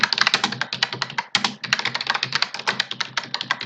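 Fast, uneven typing on a computer keyboard while writing code, a dense run of close, crisp key clicks with a brief pause partway through and no voices.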